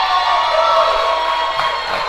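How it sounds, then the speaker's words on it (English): Spectators at a powerlifting regional championship shout encouragement during a 32.5 kg squat attempt, a steady, fairly loud wash of crowd voices with a few rising calls. "The crowd shouts encouragement."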